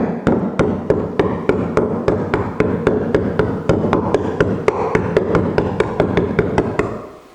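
An awl is tapped repeatedly into a wooden barn beam to mimic powder post beetle holes, giving a steady, close series of about two dozen sharp taps, roughly three per second, with no talk.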